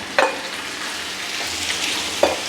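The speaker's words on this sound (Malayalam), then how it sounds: "ഇനിയിപ്പോൾ നമുക്ക് ചിക്കൻ അങ്ങോട്ട് ആഡ് ചെയ്ത് കൊടുക്കാം കേട്ടോ." Chicken is tipped onto sautéed onions in a pan for chicken stew and stirred, producing a continuous moderate sizzle with two sharp scraping clacks of a spoon near the start and end, with no talking.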